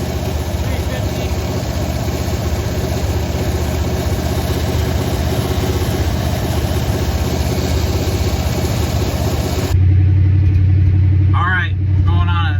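A 1981 Chevy C10 pickup with a 350 engine runs at a steady, loud idle close by, its rumble continuing throughout before a louder shift near the end, with some background noise over the running engine.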